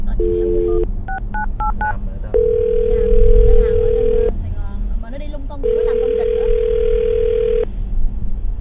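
A phone number is dialed with a quick run of touch-tone beeps, followed by two long, steady ringback tones separated by a pause, all close and clear over a low hum.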